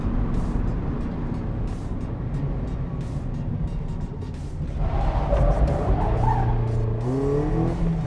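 A Mazda MX-5 RF roadster with retractable hard top drives on a country road, its engine a steady low drone from inside the car that rises into a revving, climbing pitch toward the end.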